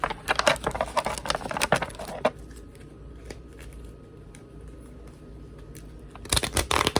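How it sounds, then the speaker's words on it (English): Tarot cards are shuffled in two quick papery bursts of riffling and slapping, one at the start and another at the end, with a quiet pause between. "get a good shuffle in Aries"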